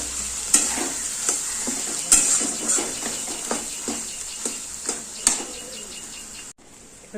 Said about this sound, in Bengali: আলু মশলাটাকে ভালো করে মাখা মাখা করতে হবে ভাজা ভাজা করতে হবে